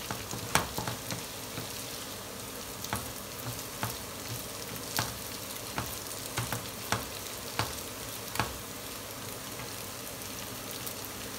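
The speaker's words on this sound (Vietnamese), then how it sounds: "chiên xong cái phần huyết" Swedish blood pudding fries in a pan with a steady, soft sizzle, punctuated by sharper crackles and pops at irregular intervals, close and unaccompanied by talk.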